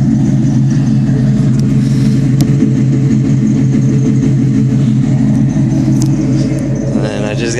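A 2001 Ford Mustang Bullitt V8 with an off-road H-pipe exhaust rumbles steadily at idle, a deep continuous drone that stays loud and even throughout with no one talking.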